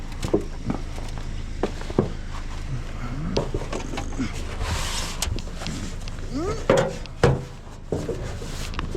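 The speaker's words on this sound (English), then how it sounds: "there's a car coming down the street" A car drives down a residential street past a parked truck, rising as a soft rush and passing near, while a person talks and nearby knocks and footsteps sound.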